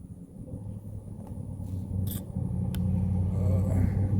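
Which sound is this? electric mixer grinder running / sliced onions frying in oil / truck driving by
truck driving by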